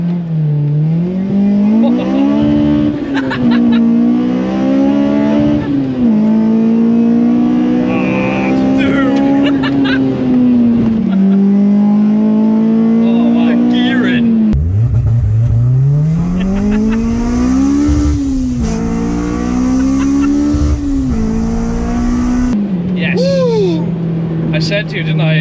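Honda Civic EP3 with a naturally aspirated 282 bhp K20 engine and new differential, driven hard on track: loud, close engine droning and rising through the revs, with repeated gear changes and speech from inside the cabin.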